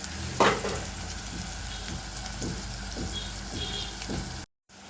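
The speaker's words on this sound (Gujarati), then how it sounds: "હવે ડુંગળીને સરસ મજાની ચડી દેવા દેવાની છે" Onions and chillies cook in a covered pan for Gujarati ringan no olo, a soft, even sizzle with faint popping and a few light taps, close and steady without any talk, cutting out briefly at the end.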